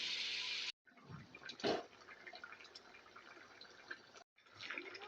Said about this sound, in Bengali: সিদ্ধ করার মতো পরিমাণ মতো আমি জলটা দিয়ে দিলাম